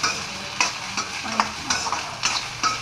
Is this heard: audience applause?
no